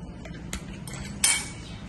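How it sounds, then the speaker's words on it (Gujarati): Rice rava snack dough being mixed with a spoon in a bowl after baking powder is added, giving a few soft scrapes and light clinks, with one louder metallic clink near the end. "ફરીથી સારી રીતે મિક્સ કરી લઈએ।"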